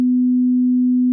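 A steady, pure 250 Hz sine wave test tone, a constant loud low hum with no variation, starting and stopping abruptly.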